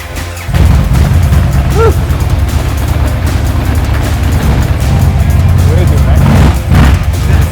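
A custom Indian Super Chief motorcycle engine rumbles and revs with a deep, throaty growl, holding steady for several seconds after starting abruptly.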